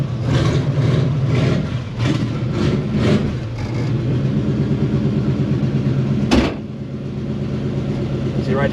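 A carbureted car with a Holley carburetor and no choke is cold started, its engine catching with a few rough revs and then settling into a steady, loud idle close by, with someone talking over it.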